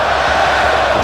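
A crowd at an independent pro wrestling show roars loudly and continuously in a dense, close wash of cheering and shouting.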